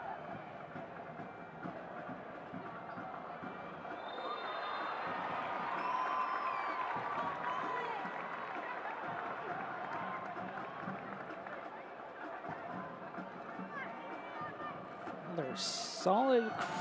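A solid crowd at a women's professional soccer match in Louisville applauds and cheers steadily at moderate distance, a broad wash of noise running under continuous commentary.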